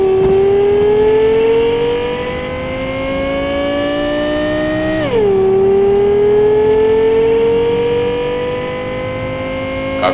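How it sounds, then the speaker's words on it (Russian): A car engine in the game Cyberpunk 2077 drones steadily higher as it accelerates, drops sharply at a gear shift, then climbs again, loud and close. "Какой звук-то приятный от машины."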